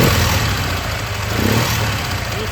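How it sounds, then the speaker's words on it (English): A motorcycle engine runs steadily and loudly, driving its generator, with a continuous close mechanical roar and no clear change in speed. "You see how the generator works."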